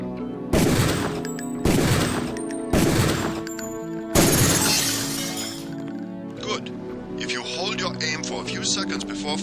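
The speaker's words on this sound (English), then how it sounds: "Release the first target and take a few shots with one of the pistols until it is destroyed." Pistol shots ring out at targets in the VR shooter Surreal 98, four sharp loud cracks spaced about a second apart with shattering debris, then scattered smaller breaking and clattering sounds.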